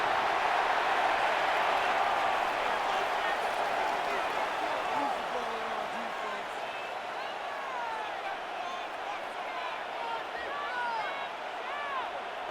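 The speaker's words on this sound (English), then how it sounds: "This crowd is making it tough down deep in the red zone" Steady roar of a stadium crowd in a Madden football game between the Saints and Raiders, a dense continuous wash of noise under an announcer talking throughout.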